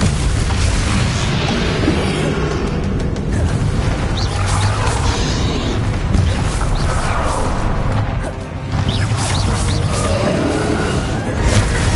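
Spell explosions boom and crash in Hogwarts Legacy combat, dense repeated blasts and impacts layered over game noise with little pause, loud and close.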